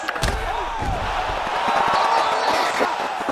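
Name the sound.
crowd cheering in UFC 5 video game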